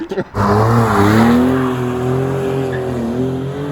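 A Porsche 996 GT2 driven hard roars close by, its engine note rising and holding strong under load as it accelerates, loud and continuous after a brief opening knock.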